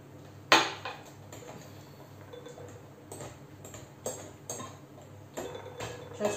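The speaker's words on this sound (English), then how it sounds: "Just try to mix it." Banana cake batter with liquid cream being stirred in a bowl, a spoon clinking and tapping against the sides in scattered strokes, with one sharp knock near the start and quiet scraping between.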